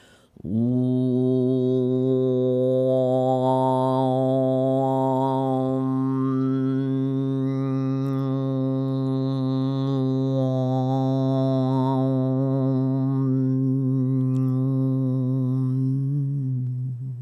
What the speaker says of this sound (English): And this has the sound of Lam, where we almost swallowed the tongue.